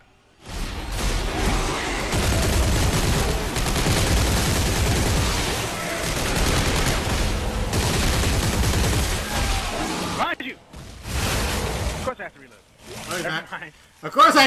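Dense, sustained gunfire from Dead Space 3 combat rolls on almost continuously for about ten seconds, then breaks into scattered shots and bangs, with people talking over it throughout.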